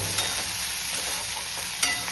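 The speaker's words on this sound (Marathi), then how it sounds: "आता शेंगदाणे आणि वाटाणा पण टाकून देते, ते पण तेलामध्ये फ्राय होऊन जाईल" Peanuts, peas and curry leaves fry in hot oil with a close, steady crackling sizzle, broken by a faint stir or two.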